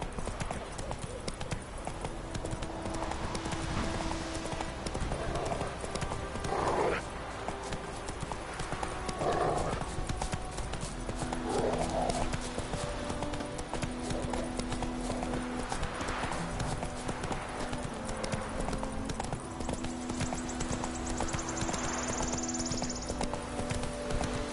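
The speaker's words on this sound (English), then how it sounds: "Whoa there, Roach." A horse's hooves clip-clop at a gallop in the video game The Witcher 3, a steady rhythmic patter that runs throughout under game music and ambience, with occasional whinnies and voices.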